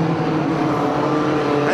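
Pre-1970 classic banger cars race at Mildenhall, their engines forming a loud, steady roar with a constant low drone and no breaks, and a voice can be heard faintly beneath it.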